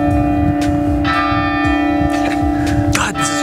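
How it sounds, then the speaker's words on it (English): Church bells ring out in the Basque Country, a sustained bright tone with repeated strikes, heard outdoors over steady wind noise and a low rumble. "Each time we tried to say something, like the bells would ring."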